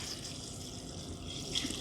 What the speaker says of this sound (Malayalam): ഇനി ഇതിന് വേകാൻ ആവശ്യത്തിനുള്ള വെള്ളം ഒഴിച്ചു കൊടുക്കാം